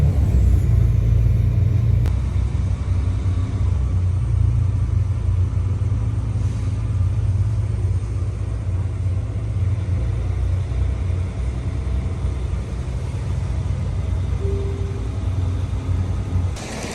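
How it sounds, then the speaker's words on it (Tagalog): A train in motion carries riders along in Germany, giving a steady, continuous low rumble with faint mechanical hum, unbroken and fairly loud throughout with no talk. "Guys, sumila na tayo sa train. Biyahe na tayo."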